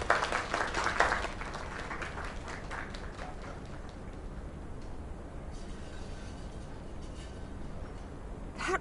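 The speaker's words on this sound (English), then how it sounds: "Another round of applause." Sustained video game crowd applause and cheering, loudest at the start and then settling into a steady roar of clapping that runs throughout.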